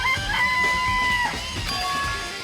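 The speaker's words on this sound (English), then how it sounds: "And there were some chickens in the coop." Video game chickens in a coop, a short burst of bright clucks and a crowing-like call, loud and close with no talk over them.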